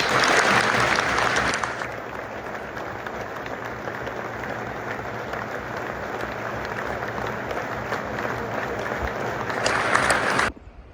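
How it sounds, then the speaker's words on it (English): Stadium crowd at a Lincoln City football match applauding in tribute to former player Tomo, a loud sustained roar of clapping that holds steady from start to finish before cutting off abruptly. "Please join us now in this applause which will start and finish"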